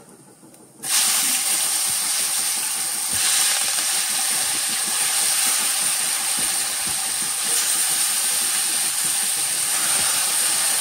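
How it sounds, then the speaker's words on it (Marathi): Tomatoes tipped into hot oil tempered with asafoetida and turmeric burst into a loud, steady hiss and sizzle that starts abruptly and continues without pause, close up and alone. "आता या फोडणीवरती आपण टोमॅटो घालूया"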